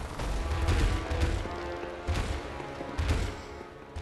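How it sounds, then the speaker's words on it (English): Gunshots in the Bloodborne video game, a few heavy booming blasts spaced roughly a second apart over a rumbling combat background, no talk. "We're almost into this next phase, just from me shooting him."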